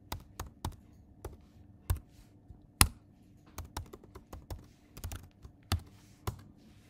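Someone types a domain administrator password on a computer keyboard, producing soft, irregular key clicks at a quiet, close distance with brief pauses between bursts.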